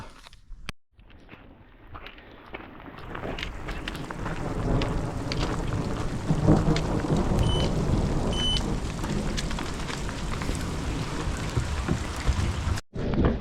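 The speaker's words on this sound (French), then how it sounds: "après un orage dantesque à 1700 mètres d'altitude, on repart" Heavy rain pours steadily during a mountain thunderstorm at 1700 metres altitude, with deep rumbles of thunder rolling through a continuous close, loud downpour.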